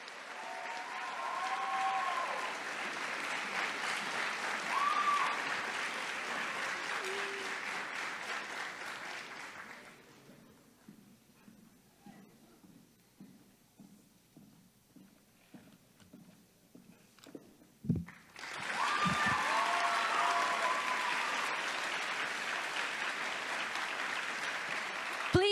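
Loud, sustained applause from a crowd that fades into scattered claps and quiet, then swells again into full applause.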